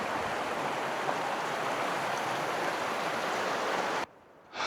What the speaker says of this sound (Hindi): ये जी आ रहा है ऊपर से पानी।